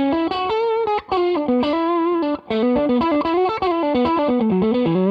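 Overdriven Fender Stratocaster in pickup position two, through a Hot Rod Deluxe amp, plays a busy run of distorted single notes and short chords with brief gaps, loud and close, with no voices.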